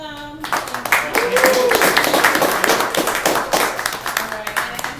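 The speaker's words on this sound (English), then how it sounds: "A round of applause for them." Hands clap as an audience applauds the panel at an economic roundtable. A voice fades out at the start, then mixed claps run loud and steady to the end.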